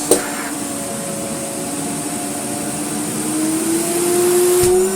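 A Moulinex E59 vacuum cleaner, French-made and restored, runs at 400 watts with a steady, loud whine that climbs slightly in pitch, ending with a brief clunk.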